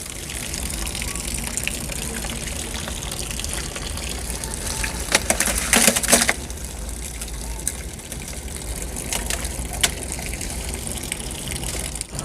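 Water poured into a container holding eggshells, a continuous gushing splash that surges louder for a moment midway, then settles into a steadier trickle.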